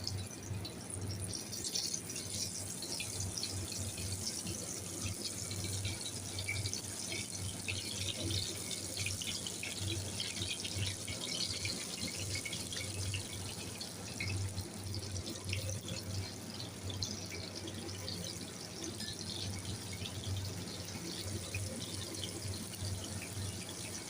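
Mushroom pakora pieces frying in a pan of hot oil, giving a steady, dense sizzling hiss that carries on unbroken throughout.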